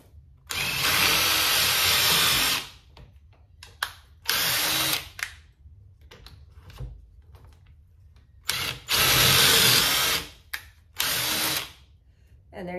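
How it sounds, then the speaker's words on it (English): A power drill drives a screw into a board of a raised garden bed in several loud, whirring bursts of about two seconds each, separated by quiet gaps with small clicks and handling noises. "You get your drill or your driver"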